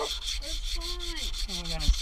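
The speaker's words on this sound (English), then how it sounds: "And we're going to sand" A piece of wood is hand-sanded with 80 grit sandpaper to knock off its hard edges, giving a steady run of close, even, scratchy rubbing strokes with a faint tonal sound woven in.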